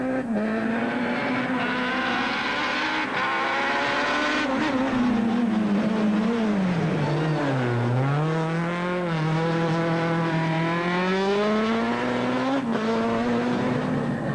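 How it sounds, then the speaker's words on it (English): Subaru Impreza rally car on a tight stage of twists and hairpins, engine loud and close, revs continually rising and falling as it brakes and accelerates through the bends, no voices. "the tight twists and hairpins of the stage were not to the Subaru Impreza's liking, with Berger having to wrestle"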